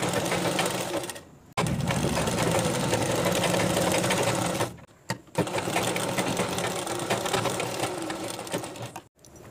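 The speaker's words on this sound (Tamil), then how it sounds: "இந்த オリジナルலயும் லைனிங்கையும் நம்ம முதல்ல ஒன்னு மேல ஒன்னு வச்சு தச்சுக்கறலாம்." A sewing machine stitches a lining layer onto blouse fabric in quick, continuous whirring bursts, stopping briefly twice before starting again, close and clear with no talking.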